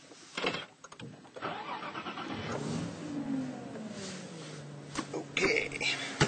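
A Nissan 370Z with a manual transmission is started, with clicks and a brief crank, then the engine catches and settles into a moderate idle close by.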